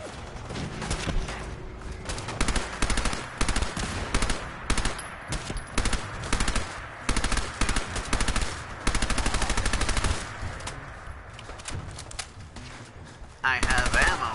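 Rapid automatic gunfire in the video game Fallout 4 Far Harbor, dense loud bursts of shots repeating throughout, with a voice talking over the shooting.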